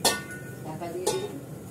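A lid is set on a cooking pot of boiling dal, giving a sharp clink at the start and a second clink about a second later, both fairly close over a quiet kitchen background.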